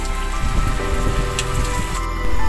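Steady rain at sea pours down on a fishing boat in extreme weather, a dense, continuous hiss of drops drumming on surfaces, close and loud throughout with no voices.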